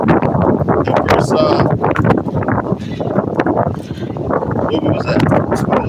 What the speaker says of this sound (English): I know this is very windy out in the night, man. So it's very windy.